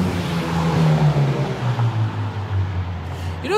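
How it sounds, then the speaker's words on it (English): Heavy traffic on Broadway rolls past in a continuous, fairly loud rumble, with one vehicle's low engine note sweeping by and fading, and no talk over it. "I have not heard this much traffic so aggressively at any time in history on Broadway."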